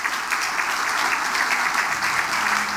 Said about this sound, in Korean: 여러분 다시 한번 건우 힘내라고 큰 박수 부탁드립니다.